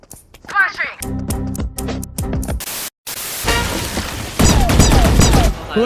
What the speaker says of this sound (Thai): เมื่อกี้กูยิงไม่โดนเลยสักนัด